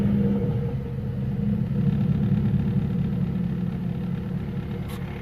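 The engine of a Nissan S13 idles steadily close by, a continuous low rumbling drone with slight roughness from engine shake and no voices.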